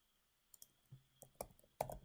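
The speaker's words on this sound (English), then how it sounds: "So right click on the package, select new file" Computer mouse clicks in the Eclipse editor while creating a new file, a handful of light, close clicks in an irregular sequence over a faint steady hum, no talking.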